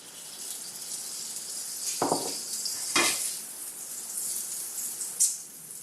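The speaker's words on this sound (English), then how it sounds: "I think my pan is just about there. I'm going to put a little more butter in there." Butter sizzles in a hot frying pan being readied for a grilled cheese sandwich with apple and candied bacon, a steady close hiss broken by a few louder bursts as more butter goes in.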